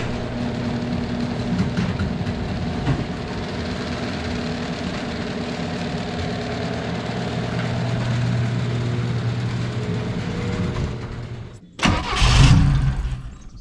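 A Saab Sonett, being prepared for a winter rally, cranks and catches near the end after a long steady mechanical drone, starting with a loud, brief burst of engine noise.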